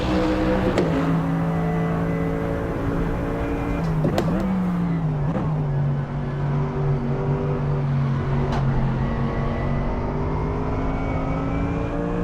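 Race car engines in Gran Turismo hum and rev steadily, with the pitch sliding down through gear changes and brief sharp transients, loud and continuous throughout.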